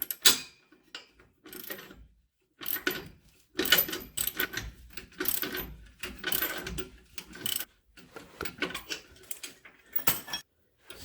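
A socket wrench tightens Apex Fabworks Step Edition rock slider bolts under a third-generation Toyota Tacoma. Short bursts of close, clicky ratcheting come one after another, separated by brief silences, with no speech.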